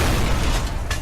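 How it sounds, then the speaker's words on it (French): A train blowing apart in a huge explosion, a loud sustained rumbling boom with heavy low-end roar and a sharper burst near the end, filling the whole moment without any voices. "le train se disloque accompagné d'une immense explosion"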